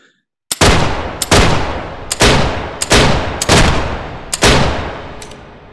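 A Webley revolver fires six well-spaced, loud, booming shots inside the virtual-reality game H3VR, each blast ringing out with a long decaying tail before the next.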